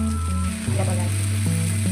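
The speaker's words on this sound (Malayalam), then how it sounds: "ഈ എണ്ണയിൽ കിടന്നത് വേവട്ടെ" Masala cooking in oil in a pot for vegetable biryani: a steady, close sizzle that runs throughout, with sustained tonal sounds layered over it.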